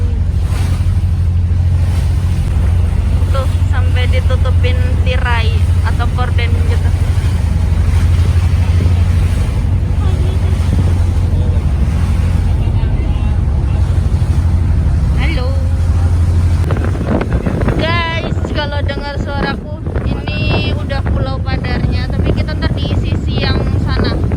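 A boat near Labuan Bajo is rocked by rough, heavy waves. The ride brings a constant loud roar of engine and water with rumbling buffeting, and people talk over it throughout.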